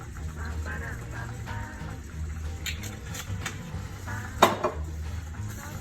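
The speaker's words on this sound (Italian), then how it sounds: "Gli diamo una mescolata" A utensil stirs a pot of cream for a cannellini bean and prawn dish, giving soft scraping and sloshing with a sharp metallic clink near the end, close and moderately quiet.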